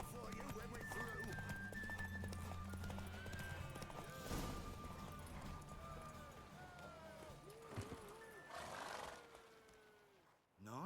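Horse galloping in a Witcher 3 horse race, video game, with rhythmic hoof clip-clops, snorts and whinnies, accompanied by a game soundtrack and occasional spoken voices.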